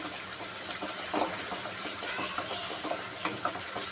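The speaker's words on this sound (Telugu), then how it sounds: "కొద్దిగా వేయించుకుందాం ఇవి కొద్దిగా వేగాయి" Onions fry in a pan with a faint, steady sizzle and light bubbling, punctuated by small stirring taps; quiet and close, with no voices.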